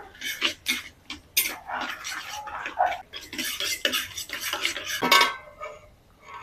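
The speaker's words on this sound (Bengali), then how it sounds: "দারচিনি এলাচ শুকনো মরিচ হাফ চামচ গোটা জিরে এগুলোকে আমি একটুখানি ভেজে নেবো" Cinnamon, cardamom, dried chili and whole cumin frying in hot oil for khichdi, with loud close clatter of a spatula against the pan and bursts of sizzling crackle, no talking.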